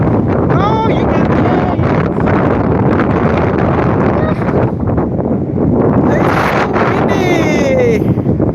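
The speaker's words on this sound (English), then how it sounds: "It's so windy." Strong wind blasting straight into the microphone outdoors, a loud continuous roaring buffet that never lets up, with faint whistling tones drifting through.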